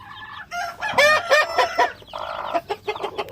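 Native chickens clucking nearby, a run of loud close clucks and squawking calls in an uneven rhythm, heard alone without talk.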